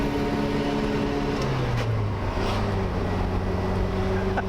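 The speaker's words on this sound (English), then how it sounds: "As a bonus, it has an amazing exhaust note too" Lancia Fulvia engine and exhaust heard at speed from inside the car, a moderately loud buzzing drone whose pitch rises and falls as the revs change.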